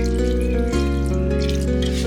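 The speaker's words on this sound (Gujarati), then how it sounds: "પાણી એડ કરીએ." Half a cup of water is poured into a pan of potato and cluster bean curry, making a short steady splashing trickle, close and fairly loud, with no talk over it.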